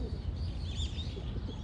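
Pigeons coo softly on an Osaka street in the morning, faint and somewhat distant over a steady low rumble of city background noise.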